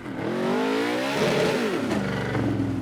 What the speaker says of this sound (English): Listen to that monster V8.